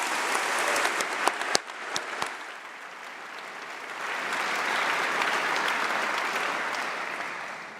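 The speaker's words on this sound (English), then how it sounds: "another round of applause for Sophie for her excellent speech" A large audience at a university graduation congregation applauds steadily, a dense wash of clapping with a few sharp nearby claps early on, swelling slightly toward the end.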